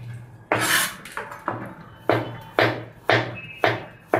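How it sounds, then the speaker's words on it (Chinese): A knife cuts fresh ginger on a board into slices, then strips, giving about eight crisp separate chops at a slow, even pace, close and clear with no talking. "生姜我是要把它切成片，然后再切成丝儿"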